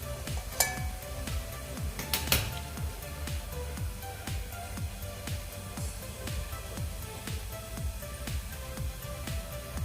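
Cumin seeds sizzling in hot oil for a black kidney bean curry: a faint, steady close crackle with rhythmic scraping taps from a spoon stirring the pan and a couple of sharp clinks, no speech.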